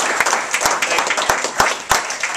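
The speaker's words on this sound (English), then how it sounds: "So can we give a round of applause, I always say, at the beginning for single mothers," An audience at a meeting claps, a brief burst of applause with distinct individual claps at close range, loud and lively.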